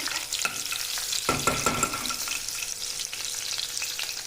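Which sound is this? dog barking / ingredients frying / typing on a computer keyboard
ingredients frying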